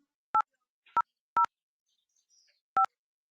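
Four separate DTMF keypad tones on a support telephony line, each a short clear beep with gaps between, the third a little longer, with a faint chirp near the end and no talk.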